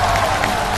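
Brief burst of studio audience applause at a Chinese crossover comedy stage show, a dense wash of clapping lasting under a second.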